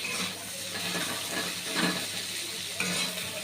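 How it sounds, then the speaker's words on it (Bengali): Drumsticks frying with mustard paste, stirred in a pan with a continuous soft sizzle and wet scraping, ending in a sharp clink of the spoon. "সর্ষে বাটা দিয়ে ভালো করে মিক্স করতে হবে।"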